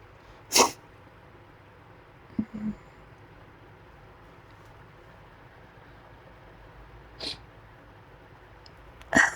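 A person with a cold sneezes indoors, a few short sharp bursts spread apart over quiet room tone, the loudest near the start and end, with no speech.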